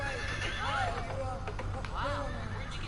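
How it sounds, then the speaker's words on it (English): A horse whinnies twice in quick succession, shrill rising-and-falling neighs over a low steady hum, with speech mixed in. "Wow, where'd you get the horse?"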